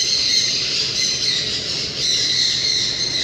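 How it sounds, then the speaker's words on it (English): A parrot squawks loudly and continuously at close range, with harsh, raspy calls that persist throughout with no break. "Say hi, Parrot."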